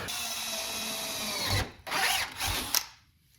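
A power drill drives bolts to fasten a sheet metal wind guard onto an Astro Van, sounding in a few short, close whirring bursts that stop abruptly and leave near silence.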